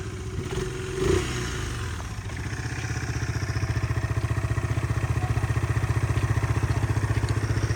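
Yamaha Majesty 250 scooter engine idling close by, a brief rev at the start settling into a steady, even putter with a rhythmic pulse.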